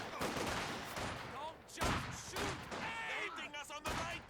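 Gunfire cracks in scattered bursts and volleys in Company of Heroes 2, with thuds of impacts mixed in. The battle runs continuously under a commentator's voice.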